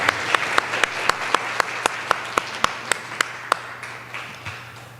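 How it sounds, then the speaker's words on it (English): A conference audience at GUADEC 2024 gives a round of applause, with sharp individual claps standing out at a steady rhythm over a softer bed of clapping that thins out toward the end. "I'd like a round of applause for Felipe, please"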